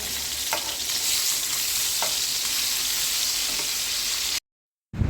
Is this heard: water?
no